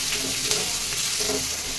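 Chopped tomatoes, onion, cinnamon, cloves, cardamom and a few cashews frying together in a pan, a steady close sizzle with faint stirring.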